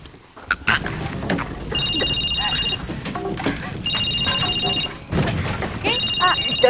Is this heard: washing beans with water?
no